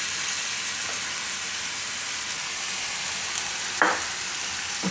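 Sliced cucumber for kakdicha korda frying in a pan, giving a steady close sizzle throughout with a brief clatter of stirring near the end.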